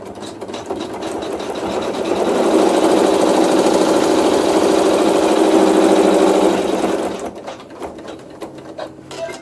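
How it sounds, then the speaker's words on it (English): A sewing machine runs a tack down stitch through quilt fabric, a quiet start building to a steady, loud mechanical whir for several seconds before slowing and stopping, with faint handling sounds after. "we're going to sew a tack down stitch"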